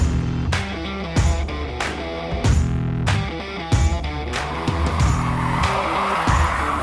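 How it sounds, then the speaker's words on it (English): Nissan Leaf prototype driven hard around a handling circuit at Millbrook Proving Ground in the English countryside, with loud close tyre squeal and skidding that comes in repeated sharp bursts over a continuous road rumble. "I'm in the Nissan Leaf. It's a prototype. I'm driving it around the handling circuit."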